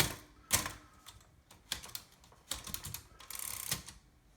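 A custom Remington Noiseless Deluxe typewriter clatters through irregular bursts of keystrokes, close and crisp, with clustered strikes and short pauses between them.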